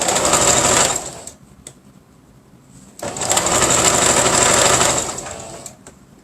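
A sewing machine stitching a nonwoven fabric eco bag wallet runs in two loud bursts, each about a second or two, with a short quiet pause between them.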